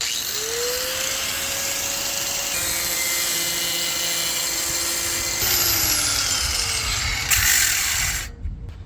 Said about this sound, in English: let's start cutting this plate out. Got nothing else to cut it with besides a grinder